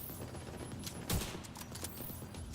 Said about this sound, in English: Laser turret, artillery.